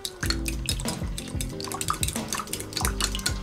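A fork stirs salt into a mix of whole lemon juice and half a stick of butter, giving quick, repeated clinks and scrapes against the dish, close and fairly busy, with no one talking.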